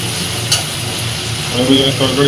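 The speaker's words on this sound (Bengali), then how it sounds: "এখানে পেঁয়াজ আর টমেটোটা দিয়ে দিলাম, দিয়ে এবার কষাবো" Onion and tomato sautéed in a pan for a meat curry, a soft steady sizzle with occasional stirring scrapes running throughout, fairly close.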